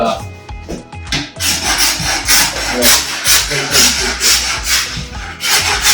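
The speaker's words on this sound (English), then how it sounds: "He's scraping away" A worker scrapes apartment walls before painting, a loud close, steady rhythmic rasping of a hand scraper on plaster, stroke after stroke, with faint talk in the background.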